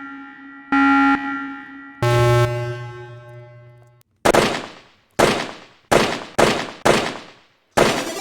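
AK rifle fire in a video game: a couple of ringing tonal sounds open the clip, then six sharp, loud single shots crack out at uneven intervals, each with a quick decaying tail and silence between.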